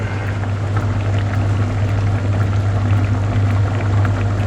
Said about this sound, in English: Everything on the boil here.